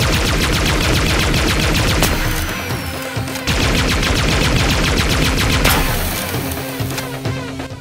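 Pulse Shooter energy weapon in Halo Infinite firing rapidly and continuously, a dense loud stream of sharp pulsing shots with near-constant rhythm and brief breaks, game sound effects throughout.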